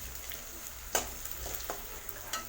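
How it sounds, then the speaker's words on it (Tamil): Small onions sautéing over medium flame in a pan for mutton curry, a soft steady sizzle with a few faint stirring scrapes, fairly quiet with no talking. "மீடியம் ஃப்ளேம்லேயே வச்சு வெங்காயத்தை வதக்கி விடுங்க."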